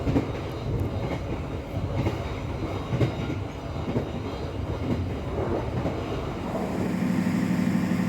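Inside an executive-class car of the Argo Merbabu train running at night, a steady, loud rumble of wheels and carriage fills the space, with faint rhythmic clacking over the rails throughout.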